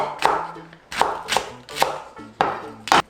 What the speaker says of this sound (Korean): 이렇게 다지기로 할게요